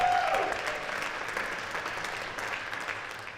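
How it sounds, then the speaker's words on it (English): Applause from a school jazz concert audience for the band's soloists, a steady wash of clapping that starts strong and gradually tapers, with no talk over it. "So let's give a round of applause to all of our soloists on that tune"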